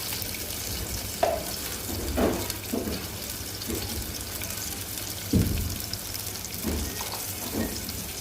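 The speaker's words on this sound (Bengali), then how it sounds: "এখন পেঁয়াজটা ভাজব" Soft sizzle of onions frying in oil in a pan, with a few sharper clinks and stirring scrapes scattered throughout, steady and close.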